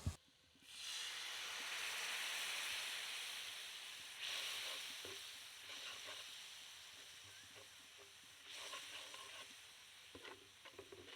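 A spice paste of salt, chili, turmeric and coriander powder bursts into a hissing sizzle when water is added to the hot oil, then settles into a quieter, fading fry with faint stirring scrapes.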